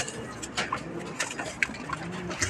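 Breeder pigeons coo softly in a loft, a few low murmuring calls scattered among faint rustling and background movement, fairly close but quiet.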